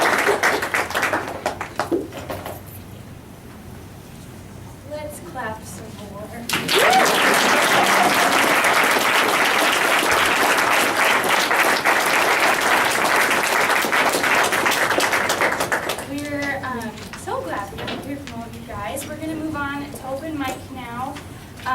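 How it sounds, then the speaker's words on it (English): An audience applauds after a poetry reading at Helicon West. A loud, dense burst of crowd clapping lasts about nine seconds in the middle, with someone talking before and after it. "Let's clap some more."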